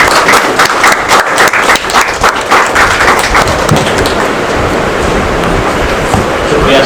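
Indoor audience at a gathering applauds in long, dense, sustained clapping that stays loud throughout and slowly smooths out toward the end.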